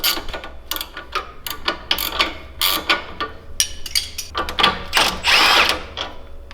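An impact wrench breaks loose a bolt on a 2011-2016 Ford Explorer during a leveling kit install, firing in loud, close, irregular bursts of rattling hammering, separated by short pauses and mechanical clatter, with no speech.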